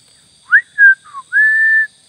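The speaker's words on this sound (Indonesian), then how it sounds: "Ini saya sudah siulan." A person whistles a short tune in three quick notes followed by one long held tone, loud and close in an otherwise quiet setting.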